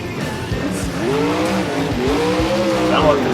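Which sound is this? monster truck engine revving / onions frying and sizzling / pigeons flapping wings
monster truck engine revving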